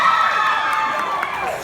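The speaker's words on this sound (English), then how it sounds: "For some reason, the screams are significantly higher when I do Austria." Anime convention crowd screaming and cheering in a large hall, a loud high-pitched burst of overlapping voices that fades slightly over under two seconds.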